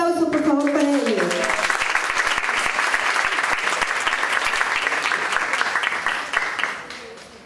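Audience applause at a Latin American reading comprehension congress, dense sustained clapping from a large crowd that swells quickly, holds steady and tapers off near the end, with a voice over a PA at the very start.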